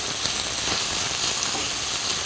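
Chopped onion sizzles steadily in a hot pan for a pizza sauce, a continuous close, even frying hiss with faint stirring scrapes and no talk.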